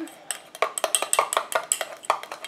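A spoon stirring homemade post-epilation cream in a bowl just after fragrance drops go in, a quick steady run of close clinks and scrapes against the container, about a dozen strokes, no talking.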